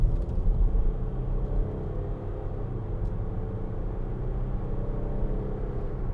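A 2013 Range Rover Sport 3.0 SD V6 HSE Black Edition under acceleration, heard from inside as a low, smooth diesel rumble with steady road noise, moderately loud and even, no talking.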